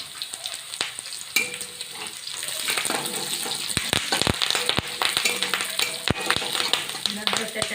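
Curry leaves hitting hot oil with sautéed onion for a vermicelli upma set off a steady, close crackling sizzle, with sharp pops and spatters breaking through, while a voice talks over it now and then.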